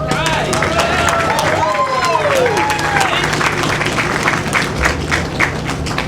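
A crowd at the Hartford ballpark groundbreaking ceremony applauds steadily, with whistles and cheers rising over the clapping at fairly close range.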